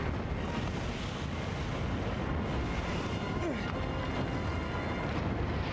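Water and rolling waves in the video game Shadow of the Colossus make a steady, loud broadband wash with a windy rush, continuous for the whole stretch.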